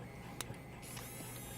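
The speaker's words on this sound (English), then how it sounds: "the other noise you hear in the background is my printer." A 3D printer running in the background, a faint continuous mechanical hum with a couple of soft clicks.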